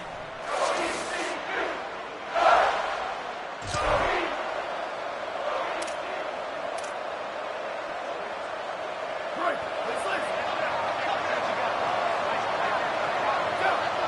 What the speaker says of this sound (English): Can they get an upset on the road with this crowd noise, with this environment?